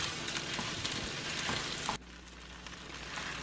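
Cold rice with bacon and kimchi stir-frying in a pan, a steady dense sizzle and crackle that drops abruptly to a quieter, softer hiss about two seconds in.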